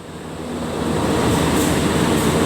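A Malam Selatan train pulls out of Klaten station, its rumble swelling from moderate to loud and then holding steady as a dense, close rolling roar.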